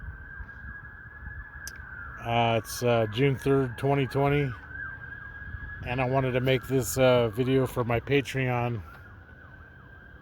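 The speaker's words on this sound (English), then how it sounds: "you could probably hear the sirens going off in the background" A steady, high siren wails in the city background for the whole stretch while someone talks close to the microphone over it.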